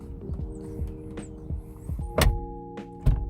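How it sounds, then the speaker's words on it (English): A 2016 Jeep Patriot Sport door soft-closes, not fully shut at first, with dull thunks, the last two firmer, over a low steady hum and faint chirps. "You see how this door sounds."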